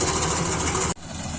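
A Mahindra tractor engine runs during a rice harvest, a steady rumbling drone that briefly cuts out and then continues slightly quieter.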